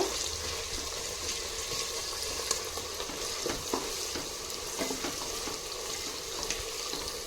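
Onions for mutton biryani frying in a pan, a continuous close crackling sizzle with scattered pops and stirring scrapes, steady throughout with no talking.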